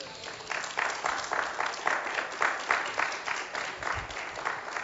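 Church congregation claps in a steady rhythmic beat, roughly two claps per second, loud and fairly close, as the audience gives a hand clap during a sermon on disaster preparedness.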